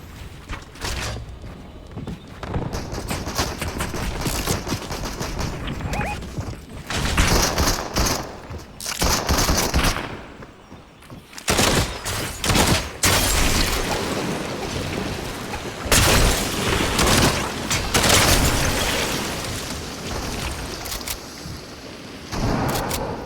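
Gunfire bursts and rapid volleys crackle through a Viking-themed battle royale video game, arriving in dense, loud clusters separated by short lulls over the whole stretch.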